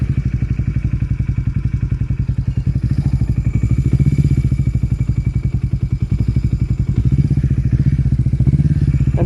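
A Yamaha XS 400 motorcycle engine runs steadily and loudly while being ridden, with a fast, even rumble and some clatter for the whole stretch, and no talking.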